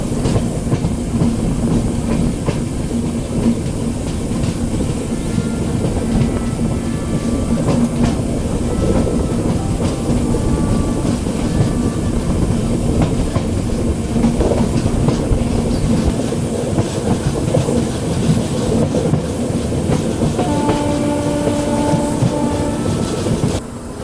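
Jammu Tawi–Sealdah Humsafar Express running on rails, a steady loud rumble of wheels and carriage with rhythmic clickety-clack throughout, heard from on board the moving train.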